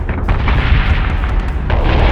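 A warship's gun fires in the space combat game Battlestar Galactica Deadlock, producing loud, dense, continuous booming with rapid repeated blasts and low rumble throughout.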